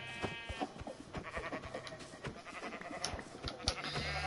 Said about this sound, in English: That sheep's probably a mimicker.